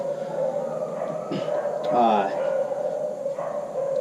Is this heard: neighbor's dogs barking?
yes